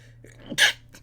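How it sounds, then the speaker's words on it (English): A single short human sneeze, with a quick breathy intake building into a sharp burst, close to the microphone and fairly quiet, then a faint trailing breath. "I just sneezed."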